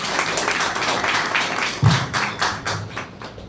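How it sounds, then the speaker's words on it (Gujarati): A small audience claps together, a loud, steady patter of applause that starts at once and fades slightly toward the end, with no talk over it. "એમના માટે ડબલ તાળીઓ પડવી જોઈએ."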